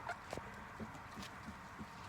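Chickens cluck softly in a short series of faint, low calls spaced across a quiet background.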